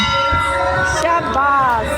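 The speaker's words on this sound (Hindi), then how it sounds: "ये बजा रहे हैं घंटा" A large temple bell rings out at close range during a rainy-season visit to a Hindu mandir, its bright metallic tone sustaining and shimmering with a second strike near the middle, steady and loud throughout.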